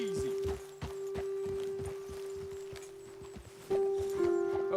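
Horse hooves clip-clopping at a walk in Red Dead Redemption 2, close and rhythmic, with soft thunks under a sustained tone, and a voice speaking over them.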